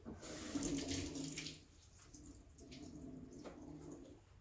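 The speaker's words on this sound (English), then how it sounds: "Give the wand a purge." A steam wand purge on a Breville Dual Boiler BES900 espresso machine: a loud hissing, watery rush for about a second and a half, then fainter continuing hiss and gurgle.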